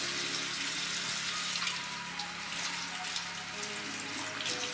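Makeup brushes rinsed under a running tap after cleansing with a solid brush cleanser, producing a steady close splash of flowing water into a sink, moderately quiet, with no talking.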